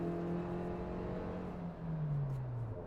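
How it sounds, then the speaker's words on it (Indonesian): The engine and exhaust of a Suzuki Jimny JB74 rev steadily, a close, moderately loud drone whose pitch holds and then sinks slowly as the revs fall away. "Suara mesin knalpot kalian dengerin nih."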